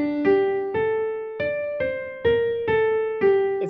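High woodwind, flute or oboe, plays a theme in a minor key as video game music: a slow line of six or seven sustained, separate notes, clear and close, with no voices.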